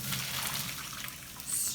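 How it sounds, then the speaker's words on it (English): Water from cooked farro drains through a kitchen strainer in a steady, close splashing trickle that lasts throughout, with a brief louder gush near the end and no one talking. "strain out the water"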